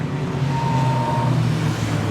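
A National 4's race car runs on the Carina Speedway dirt oval during a Queensland title A-Main, the engine a loud, steady drone with a brief rising whine partway through.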